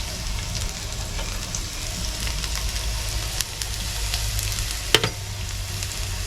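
Garlic and ginger sizzle steadily while frying in a pan, a constant close crackle and hiss with a couple of brief clinks, no talking.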